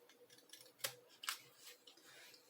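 Scissors snip through paper while cutting a paper Millennium Falcon model, two sharp close cuts standing out over faint soft rustling in a quiet room.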